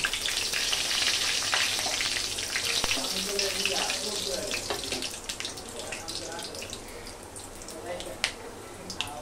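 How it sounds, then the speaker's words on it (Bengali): Dried chillies frying in hot soybean oil give a steady, dense sizzle with crackling pops throughout, close and fairly loud, and a faint voice now and then beneath it. "তো আমি রান্নার তেল দিয়ে দিচ্ছি সয়াবিন তেল"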